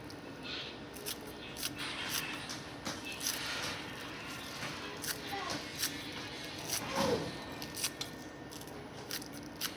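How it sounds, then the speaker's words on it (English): Repeated crisp snips of scissors cutting through scallions, irregular and close, over a background of low room noise. "So we'll get the scallion cut up. As you can see, there's the scissors"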